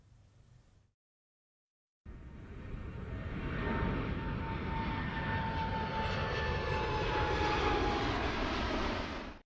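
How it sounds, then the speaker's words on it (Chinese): Airliners from carriers such as China Southern, China Eastern and Air China take off one after another at Beijing Daxing International Airport. After a short silence a loud, steady broadband jet engine roar builds and holds. "南方航空、东方航空、中国国航等7家航空公司的飞机依次从北京大兴国际机场起飞"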